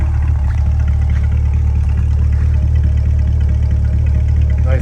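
A Torch Red 2020 Chevrolet Corvette Z51 3LT idles from behind, giving a steady low exhaust rumble that stays even and continuous throughout.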